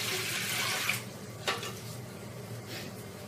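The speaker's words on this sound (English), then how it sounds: "I have filled this idli cooker with water." Water from a tap pours steadily into a metal idli cooker with five stacked plates, a constant hissing rush with a couple of small clinks and no talking.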